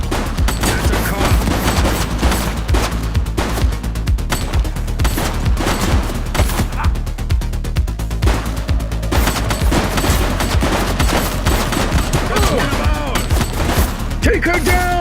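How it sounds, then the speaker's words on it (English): Rapid bursts of gunfire from a police action video game, The Precinct, crackle continuously and loudly through the whole stretch, with dense repeated shots over a music-and-effects bed and some game voices. "He's running. Shots fired!"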